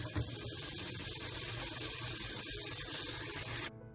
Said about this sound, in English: I'm going to run it off, run it under some cold water just to cool it down.